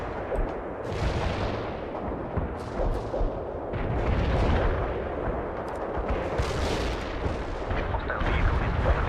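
Artillery fire in the real-time strategy game World in Conflict, a dense barrage of booming blasts and crackling impacts rolling continuously, rising and falling in loudness, with a faint voice briefly underneath.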